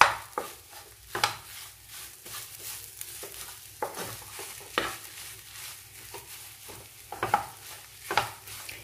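Potato filling for aloo paratha stirred in a pan: irregular spoon scrapes and taps against the pan over a faint background sizzle, close and with no voices.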